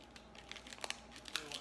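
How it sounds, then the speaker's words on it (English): Thin plastic bearing packaging crinkles and rustles while painter's tape is pressed over it, a quiet run of scattered crackles and small tearing ticks, close and faint. "I'm going to grab some painter's tape and use this plastic that was housing the bearing and put some tape over it."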